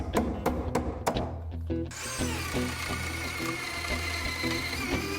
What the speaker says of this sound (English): Brace the drill well, drill right in the center, and try and keep it nice and straight.